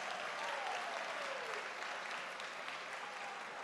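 Graduates applaud the faculty at the Kapi'olani Community College 2018 commencement, a dense, even wash of crowd clapping held steady for several seconds in a large space, with a faint tonal sound sliding through early on.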